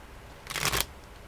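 A deck of tarot cards is shuffled in one quick riffle of about a third of a second, a crisp close burst of flapping paper set against quiet room tone.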